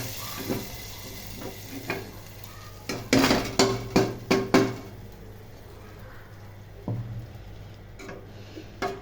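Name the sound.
pouring fried onions (beresta) into cooked lentil dal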